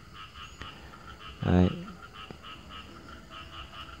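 Frogs croaking at night after an afternoon rain, heard outdoors among potted yellow apricot trees: a dense ongoing chorus of distant croaks with one loud nearby croak burst, while a person says a brief word.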